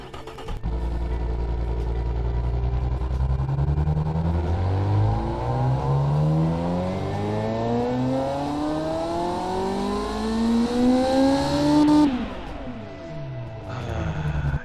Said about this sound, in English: It just sounds like a V12